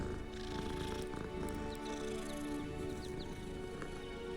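A cat in the video game Hogwarts Legacy makes a soft purring sound over dense game ambience and a steady musical hum, continuous and fairly loud throughout.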